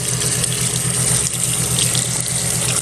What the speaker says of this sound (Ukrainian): Зараз я теплою водичкою їх помию, щоб зігріти.